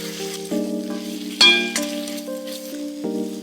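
Chopped tomatoes sauté with onions in a hot pan for a chicken curry, crackling and sizzling loudly under a sustained musical tone, with a few stirring scrapes and a clink.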